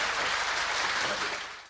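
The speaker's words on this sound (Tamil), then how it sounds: "பெரிய கரகோஷம் கொடுத்து" An audience at a Tamil debate forum (pattimandram) claps warmly, a dense burst of applause that fades slightly toward the end.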